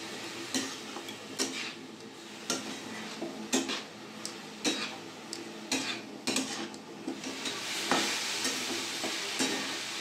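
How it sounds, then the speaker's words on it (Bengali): Chicken momo filling is stirred in a pan with salt, soy sauce and chopped coriander, a spoon scraping and clacking in irregular bursts over a steady close sizzle, with no talking. "ভালো করে নেড়ে নেবো।"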